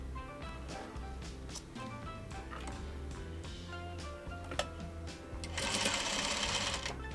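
A sewing machine runs steadily up close, its needle ticking fast as it sews 1.5 inch squares onto a quilt block, rising slightly louder toward the end.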